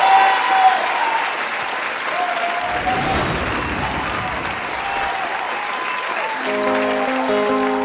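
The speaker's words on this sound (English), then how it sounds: "give a massive round of applause to Jonathan!" Loud, sustained audience applause fills a talent show stage, a dense roar of clapping that holds steady throughout, with a musical backing track beginning to rise underneath near the end.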